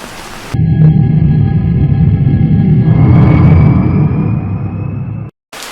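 Steady, loud rain pours down without a break, with a faint tonal hum running underneath. No voices are heard.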